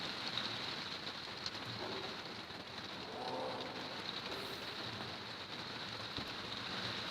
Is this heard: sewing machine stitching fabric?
no